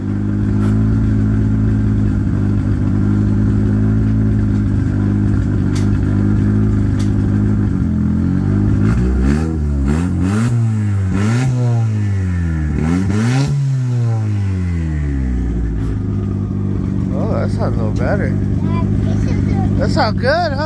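A Honda Civic hatchback engine idles with a steady low drone, then revs up and down in several rising and falling sweeps before settling back to idle, with people talking nearby.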